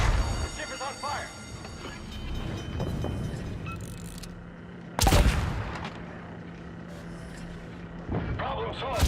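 Heavy naval shells strike a warship in World of Warships, a few loud booming impacts spaced seconds apart over ongoing battle rumble, with a voice talking between hits.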